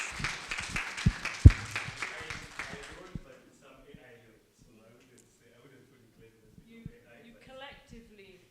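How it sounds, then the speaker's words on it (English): An audience claps for a poem at a cohort celebration summit, a brief burst of applause that fades within a few seconds, followed by quiet room noise and faint scattered sounds. "I think a big round of applause."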